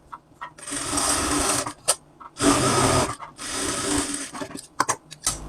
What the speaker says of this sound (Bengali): এখন আমরা এখানে একটা বিট সেলাই দেব